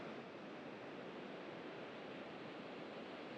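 Ocean waves roll in sets onto a Portuguese beach as a steady, broad wash of surf with no distinct individual breaks, faint and continuous throughout.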